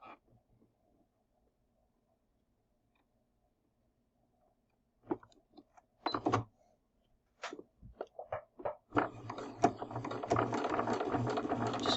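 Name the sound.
sewing machine stitching a quarter-inch seam on fabric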